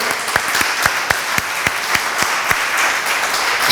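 A church congregation claps loudly and steadily with cheering over several seconds, a dense wash of applause with sharp hand-claps and no clear talk.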